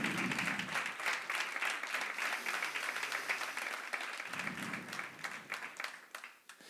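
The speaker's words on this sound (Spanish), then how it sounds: "Un fuerte aplauso de verdad." A crowd applauds steadily, dense clapping from many hands that holds for several seconds before starting to thin out.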